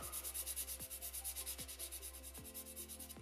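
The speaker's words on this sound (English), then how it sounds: "I'm going to file the top of this acrylic as well" A 180 grit file rubs across a sculpted acrylic stiletto nail in steady, quick back-and-forth strokes, a soft, close scratchy rasp with even rhythm and no talking.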